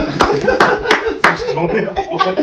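Film crew claps at the close of a shoot for a fight-scene making-of, a few sharp hand claps standing out over busy voices and light chuckling nearby.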